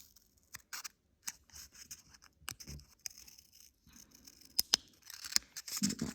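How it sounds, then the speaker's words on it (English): Scissors snip through paper in scattered, irregular cuts, with crisp clicks and light rustling between them, close up and fairly quiet. "with a pair of scissors."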